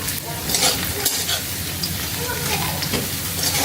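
Bitter gourd and potatoes frying in a pan, a continuous loud sizzle with stirring scrapes and light clinks of a utensil, steady throughout.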